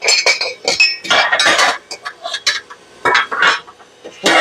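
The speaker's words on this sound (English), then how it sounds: "I'm dropping dishes everywhere" Dishes, bowls and utensils clatter and clink repeatedly in a crowded home kitchen during bread-bowl dough preparation with a stand mixer, a busy run of sharp knocks and rattles close by with no talk.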